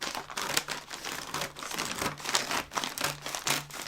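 Scissors cut across the bottom of a woven feed sack with steady, repeated crunching and crinkling snips, close and continuous.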